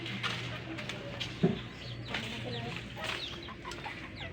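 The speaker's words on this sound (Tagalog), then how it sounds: "Yan yung mga manok natin." Chickens cluck softly in the distance amid a noisy outdoor background with a low steady hum and scattered rustles.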